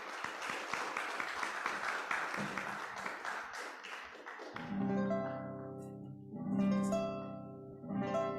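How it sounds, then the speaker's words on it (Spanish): An audience applauds loudly at a panel on education and folklore, dense clapping that gives way midway to sustained musical tones with bursts of clapping. "Démosle un fuerte aplauso"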